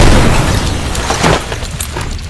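A loud, rumbling explosion in the horror video game Poppy Playtime Chapter 5, a heavy blast that swells briefly then rolls off into a dull roar.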